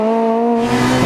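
A rally car spins on a stage of the 2010 Rally of the Lakes, its engine holding a loud, steady, close droning note throughout.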